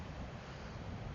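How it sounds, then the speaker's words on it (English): Wind at a beach in Rockaway, New York, buffeting a microphone with a faint, steady low rumbling roar and no voices. "it is a little windy here"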